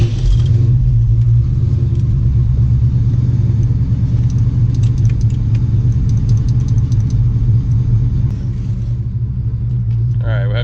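Manual-transmission car engine running steadily at idle with a loud, constant low rumble throughout, close to the microphone; the start itself is not distinct.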